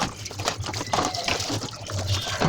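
Water runs and splashes in a home kitchen while breakfast plates and small dishes are washed, a moderately quiet, uneven trickle with light clinks close by.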